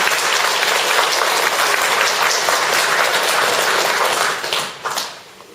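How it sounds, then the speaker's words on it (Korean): Audience applause at a Korean Won Buddhist lecture, a dense, loud wash of clapping held steady for about five seconds before tapering off near the end. "박수로 한 번 더 환영해 주시기 바랍니다."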